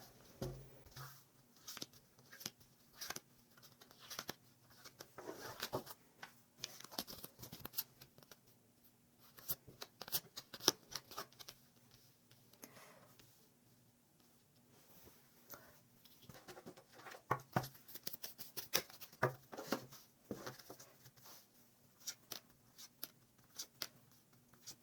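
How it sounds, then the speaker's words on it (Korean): Tarot cards shuffled and drawn during a love-fortune reading, soft close rustles, slaps and flicks of cards in irregular bursts, quiet throughout with no voices. "2번 카드를 선택해 주신 별님들 카드 뽑겠습니다"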